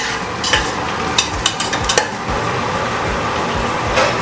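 Onions fry in a pan for Ambur biryani, with a steady sizzle and a few sharp stirring clinks against the pan early on, close and fairly loud, with no talk.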